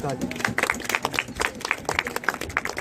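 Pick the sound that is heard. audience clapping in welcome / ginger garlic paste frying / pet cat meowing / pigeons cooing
audience clapping in welcome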